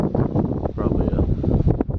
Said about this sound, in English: 20 mile an hour wind this morning